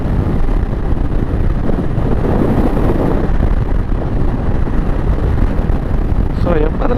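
Strong wind roars steadily across the microphone while riding at 80 on a highway through the Western Ghats, a dense continuous rush with no voices.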